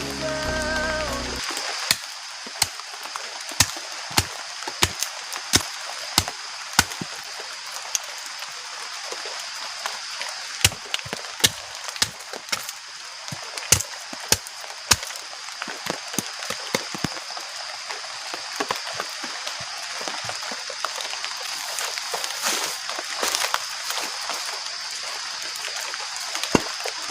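Heavy rain drums steadily on a tent while camping in a storm with thunder and strong wind, a dense continuous patter with frequent sharp drop impacts close overhead, sounding alone without voices.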